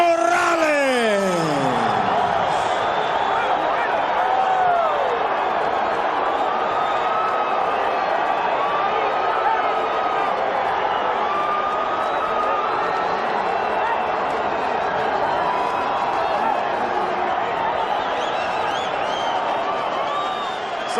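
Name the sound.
boxing crowd reacting to split decision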